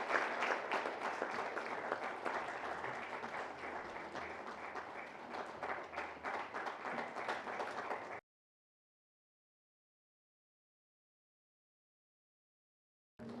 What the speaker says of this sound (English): A big round of applause for the moderator,